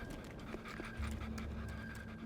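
Little dogs in Anarchy Online pant in quick, steady breaths over a constant game drone and low hum, close and continuous with no talk.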